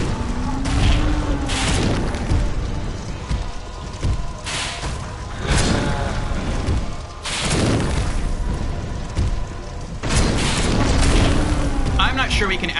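Fire seed attack in a video game exploding as a series of heavy booms and deep rumbling blasts, recurring every few seconds with a loud, dense, continuous background between them.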